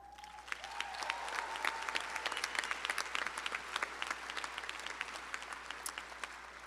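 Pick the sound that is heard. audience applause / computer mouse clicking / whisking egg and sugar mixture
audience applause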